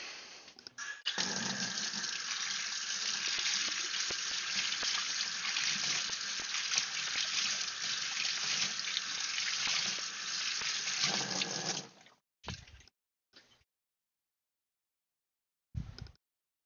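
A blue mop used in tank maintenance is rinsed under a running tap, a steady close stream of water lasting about eleven seconds before cutting off, followed by a few brief clatters and splashes.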